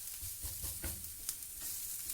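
Grated coconut and onion fry in a pan, giving a soft, steady sizzle with faint scraping pulses of stirring, fairly quiet and without any voice.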